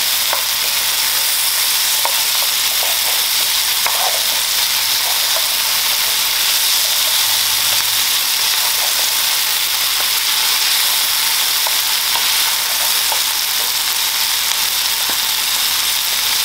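Jerk sauce and green seasoning sizzle steadily in a hot pan for rasta pasta, a loud, even frying hiss with faint scraping stir sounds throughout and no voices.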